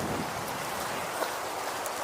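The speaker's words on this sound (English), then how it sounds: "Rain's going down" Steady rain falls at night over a wilderness campsite, a dense, even hiss of drops with no pauses, one faint tap standing out briefly.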